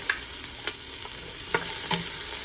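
Chopped onion stirred in a big soup pot over medium heat, a continuous soft sizzle broken by several spoon scrapes and clicks against the pot, close by with no talking.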